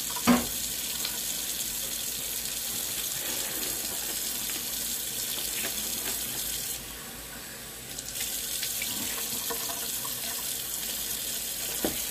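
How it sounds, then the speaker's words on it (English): Steak fries in an oiled pan with a steady, close hiss and sizzle that runs throughout, dipping briefly in the middle, with no talking. "kind of fry it up a little bit in the pan"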